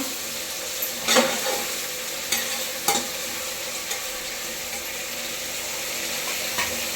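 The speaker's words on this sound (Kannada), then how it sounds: "ತಿರುಗಿಸ್ಬೇಕು, ಮಿಕ್ಸ್ ಆಗಬೇಕೆಲ್ಲ." Vegetables fry in a spiced tempering for pulao, with a steady close sizzle and several distinct scraping stirs of a spoon against the pan.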